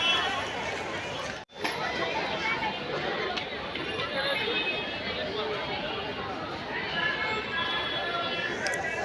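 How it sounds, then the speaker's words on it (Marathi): Constant crowd chatter and hubbub fill the busy, crowded area around the Gateway of India in Mumbai, a dense outdoor babble of many voices that runs steadily throughout with one brief dropout near the start. "गेटवेला इथे कायम गर्दी असते"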